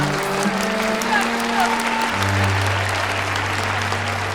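An audience applauds steadily in the background while sustained tonal music, likely a show theme, plays over it, with a low held note taking over partway through.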